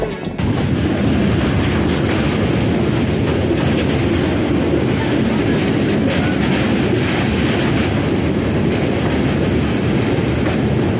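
Loud, continuous rumble of a train at Asansol Junction, where the South Bihar Express from Rajendra Nagar to Durg stands at platform 2, a steady roar of rolling stock close by with faint rhythmic clatter.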